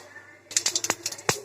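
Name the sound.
mustard seeds spluttering in hot oil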